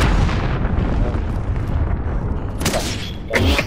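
In Call of Duty Modern Warfare, a cruise missile blast produces a loud, rumbling explosion that slowly decays, followed by a couple of sharper bursts of gunfire or debris near the end.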